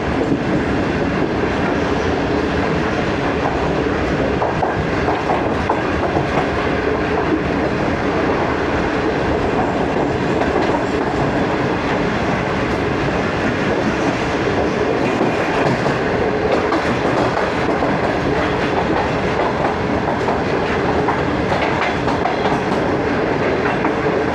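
The Pak Business Express, a Lahore to Karachi premium train, rolls along the rails with a loud, continuous rumble and rhythmic clickety-clack of wheels, heard from on board with no voices.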